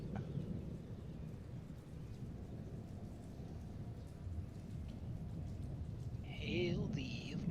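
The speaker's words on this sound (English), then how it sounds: "you also hear some storms, sounds like they're moving in." Distant thunderstorm ambience with steady rain and low rolling thunder, faint and continuous, with a brief voice near the end.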